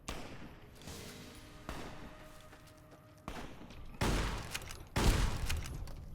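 Shotgun blasts in the video game Fallout: New Vegas, several heavy booming shots spaced about a second apart that grow louder toward the end, mixed with game ambience.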